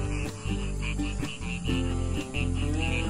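A chorus of frogs croaking after rain in rapid repeating pulses, steady and fairly close, with insects trilling in the background, outdoors at a morning kite contest.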